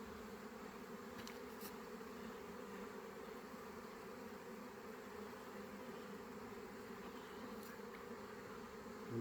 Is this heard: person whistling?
no